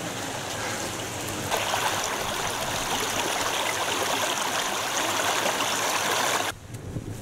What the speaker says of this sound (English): After crossing the stream,